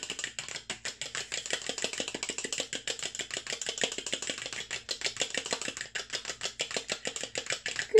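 Eggs and lemon rind being whisked together in a bowl make a fast, steady rhythmic clicking and tapping, close and moderately quiet, continuing throughout.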